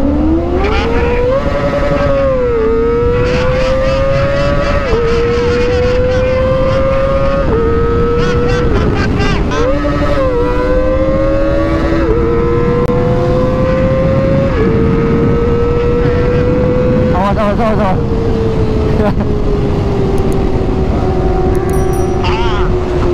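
A Kawasaki ZX25R motorcycle touring on the Pantura highway, its engine screaming loudly and continuously as it accelerates through repeated rising gear pulls with short drops at shifts, with wind roar and voices underneath.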